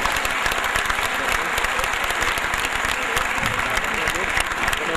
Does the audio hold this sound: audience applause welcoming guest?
yes